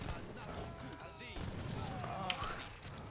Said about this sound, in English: And the cannon's killing me.